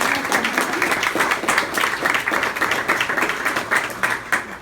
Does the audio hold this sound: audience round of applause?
yes